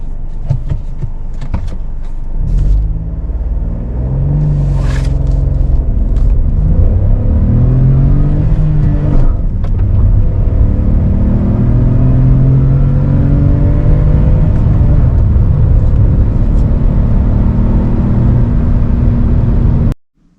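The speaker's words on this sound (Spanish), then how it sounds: "vamos a ver una aceleración de 0 a 100 de este Bayon." Hyundai Bayon Hybrid SUV (2023, 1120 kg) pulling hard from standstill to 100 km/h, its engine droning loud and close from inside with rising pitch sweeps through successive gear changes, sustained for about twenty seconds before cutting off.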